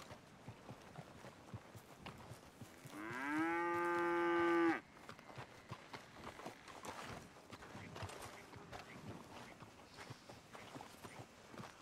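A cow in the western game Red Dead Redemption 2 lets out one long, loud, drawn-out moo that lasts about two seconds, with soft footsteps and ambient rustling before and after it.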